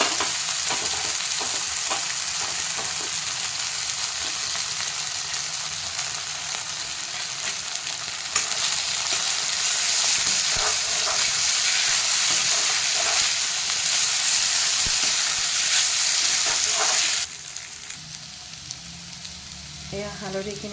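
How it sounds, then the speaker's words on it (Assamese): Turmeric with crushed garlic and ginger frying in a pan over a medium-low flame, giving a steady, close sizzle with scattered stirring scrapes throughout, then a drop in level for the last few seconds. "এয়া হালধিখিনি আধা ভাজ খাই গৈছে। মই মিডিয়াম টু ল' ফ্লেমত সিজাই আছোঁ।"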